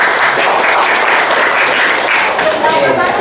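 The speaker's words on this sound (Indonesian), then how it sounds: "Tepuk tangan buat kelompok 1." Classroom applause for a student group, dense steady clapping from many hands filling the room close by for several seconds with little change in loudness.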